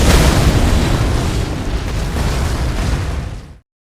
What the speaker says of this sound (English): check out this cannon stagger